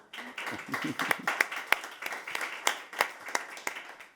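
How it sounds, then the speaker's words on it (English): A modest audience at a science talk on biomanufacturing claps for the panelists, a sparse, uneven patter of distinct hand claps with a voice briefly heard at the start. "So a big round of applause for our panelists."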